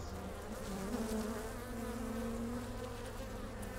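Dense, steady buzzing of many honeybees around their hives close by, a continuous droning hum with no voices.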